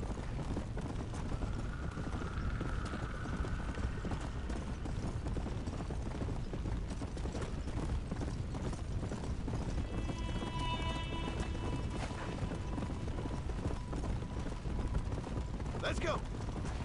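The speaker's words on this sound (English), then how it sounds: "I'd ride this horse for miles and miles and miles, how fast it goes." Hoofbeats of a horse running through a long tunnel in Red Dead Redemption: Undead Nightmare, a steady rapid clip-clop carrying through a continuous game soundscape, with a brief whinny-like tone early and a sharp effect near the end.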